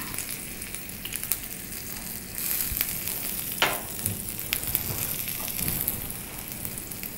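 Mustard seeds, cumin and green chillies crackle and sizzle in hot oil, with small pops and a scrape of stirring over a steady frying hiss.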